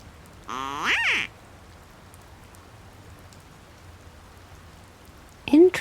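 Ducks in the Secret Files 2 adventure game respond to a small noisemaker with a short burst of quacking, followed by a brief second call near the end over steady rain-like ambience.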